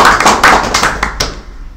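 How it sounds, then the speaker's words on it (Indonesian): A few people clap hands together on a school podcast set, a brief close burst of sharp, irregular claps that quickly dies away into quiet. "Tepuk tangan untuk kita."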